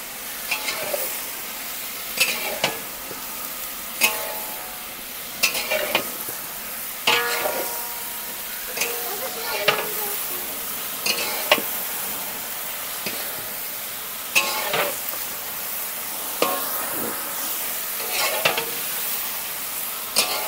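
Eggplant and chopped beans are stir-fried in a pan for khichuri, a steady sizzle cut by regular loud spatula scrapes and clanks against the pan, with no talking.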